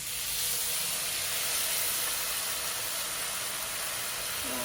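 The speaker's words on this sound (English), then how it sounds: "then you're going to want to add 2 cups of broth" Broth is poured into a hot paella pan of rice, setting off a loud, steady hissing sizzle that stays dense and even throughout, with no voices over it.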